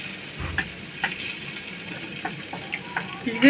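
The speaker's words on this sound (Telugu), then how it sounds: "తిప్పు తిప్పు ఫాస్ట్ తిప్పు కాలిపోతుంది తిప్పాలి" Potato curry fries with a steady sizzle in a pan while a spoon stirs it quickly, giving soft repeated scrapes over the continuous hiss, close up, with a voice faintly in the background.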